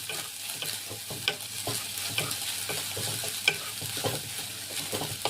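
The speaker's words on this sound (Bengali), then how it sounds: "এই যে কীরকম ভাজি দেখতে পাচ্ছ নিশ্চয়ই, এইভাবে হালকা একটু ভাজবো, বাদামি কালার হবে" Grated coconut frying in a pan with steady sizzling and frequent scraping stirs of a utensil, close and fairly loud, with no voices.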